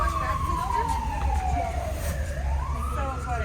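An emergency vehicle siren wails at a moderate distance as one sweeping tone glides slowly downward and then rises again, over steady low traffic rumble.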